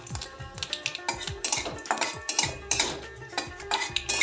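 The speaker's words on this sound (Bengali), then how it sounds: "কয়েক সেকেন্ড নেড়ে নিচ্ছি" Spices, bay leaf and dried red chilli are stirred in hot mustard oil in a wok, with a busy run of quick metallic scrapes and clinks over a low, steady sizzle.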